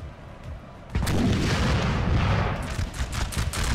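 Cannon fire in Napoleon Total War erupts after a quiet moment, a dense rumbling barrage of overlapping booms and cracks, loud and close, continuing for several seconds.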